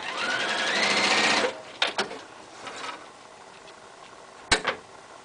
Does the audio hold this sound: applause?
no